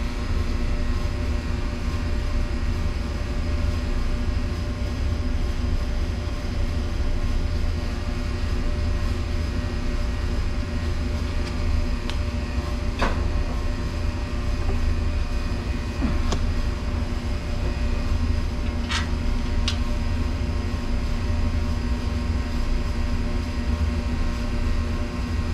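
A motor running loud and steady, giving a continuous heavy drone with a low hum that stays constant throughout, broken only by a couple of faint clicks.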